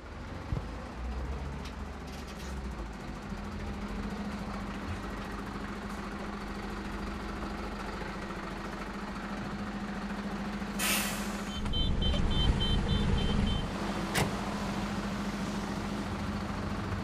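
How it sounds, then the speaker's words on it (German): A tow truck reversing up to a wrecked car, its engine idling and rumbling steadily with a low drone, a sharp hiss of air release and a brief rise in engine noise partway through; no talking. "So, ich fahr mal eben hier rückwärts ran, ne?"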